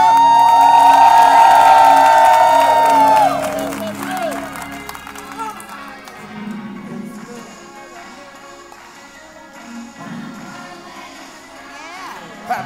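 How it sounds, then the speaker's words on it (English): A church congregation cheers and whoops over a loud sustained musical note as a choir is welcomed, then scattered clapping and chatter carry on more quietly. "Clap your hands."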